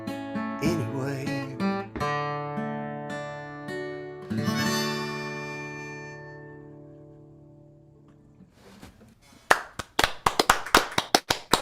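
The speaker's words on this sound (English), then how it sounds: "I didn't know you could hear everybody clapping out there" A folk festival concert audience breaks into a burst of sharp, close, uneven hand claps as the last ringing music notes die away.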